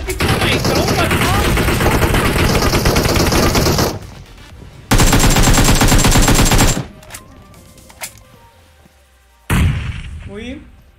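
Automatic gunfire from PUBG Mobile, long loud sustained bursts broken by short gaps, then a sharp final burst near the end, with quieter game ambience in between.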